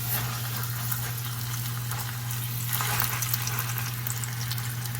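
Flour-coated beef sears in a wide stainless steel pan, a steady, close sizzle and crackle that runs unbroken over a low stovetop hum, with no one talking.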